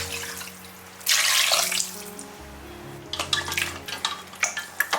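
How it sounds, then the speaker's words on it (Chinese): Three bowls of water poured into a pot of beef ribs for a Chaozhou satay braise: a loud splashing gush starts after a second, then further uneven pours and sloshes, close up with no talk. "再加入3碗清水"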